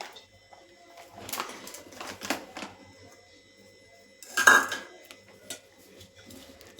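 A spoon mixing gram flour (besan) into a fenugreek methi gota batter in a bowl, with scattered clinks and scrapes against the vessel, a louder burst near the end, and quiet gaps between.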